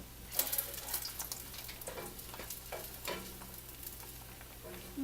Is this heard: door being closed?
no